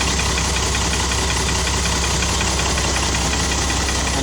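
Isuzu 6WF1 fully electronic diesel truck engine running just after starting, a steady close idle with a dense, continuous knocking rumble and no talk.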